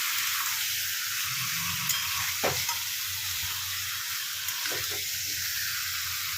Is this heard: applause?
no